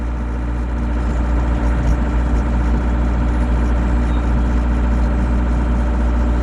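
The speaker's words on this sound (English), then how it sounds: "I'm going to start to apply some throttle" GroundHog BH70D engine runs under throttle with a deep, steady, loud drone, close and unbroken throughout, no speech.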